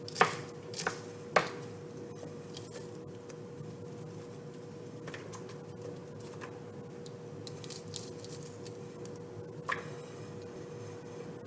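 An onion being chopped on a cutting board at home, a few sharp knife knocks near the start and scattered lighter taps later over a quiet steady hum, with no talking.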